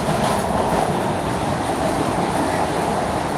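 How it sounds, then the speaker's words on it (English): A passenger train travels through North Philadelphia, filling the space with a loud, steady roar of wheels on rails and a continuous rumble heard from on board, with no talking. "I'm on the train."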